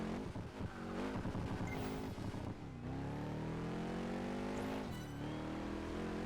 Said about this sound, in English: I'm doing a burnout.